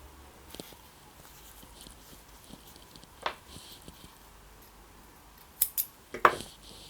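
Scissors snip through knitting yarn in a few short, crisp cuts, mostly clustered near the end after a couple of faint earlier snips, in a quiet room.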